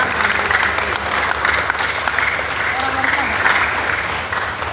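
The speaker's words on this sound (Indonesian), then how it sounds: "Jadi tepuk tangan buat Kabupaten Tegal." Crowd applause for Tegal Regency at the opening of a regional Quran recitation competition, steady hand clapping from a large audience, fairly loud and continuous, with a voice speaking over it.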